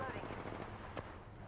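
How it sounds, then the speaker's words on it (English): Rapid gunfire from the shooter video game Nightmare Reaper, a dense burst of quick shots layered with game sound and a low rumble, fairly faint throughout. "Getting shot at."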